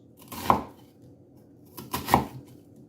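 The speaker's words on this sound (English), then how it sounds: "We're going to just take the halves and cut them into 1/2 inch" A knife chops onion halves into half-inch pieces on a board, giving two distinct close, sharp thuds about one and a half seconds apart against a quiet background.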